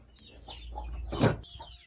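A hen gives a few short clucks nearby, with one louder squawk-like burst in the middle, over faint background noise.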